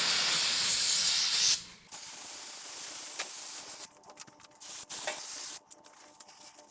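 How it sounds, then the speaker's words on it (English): Brake cleaner sprays from an aerosol can onto a part to strip off fluid film: a loud continuous hiss at first, then a series of shorter bursts and sputtering sprays with brief pauses between them, no voices. "We're gonna shoot this guy with some brake clean and clean all the crap off of it"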